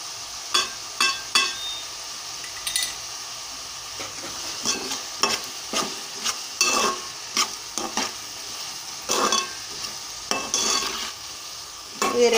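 Sliced onions frying with a quarter teaspoon of turmeric for egg curry, stirred repeatedly in the pan; a steady soft sizzle runs beneath frequent spoon scrapes and stirring clatters, close and moderately loud, with no talk.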